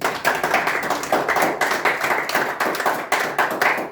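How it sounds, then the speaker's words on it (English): A school audience claps for a grade 10 quiz contest candidate, steady close rapid clapping with many hands, continuous throughout with small surges. "Give him a big round of applause"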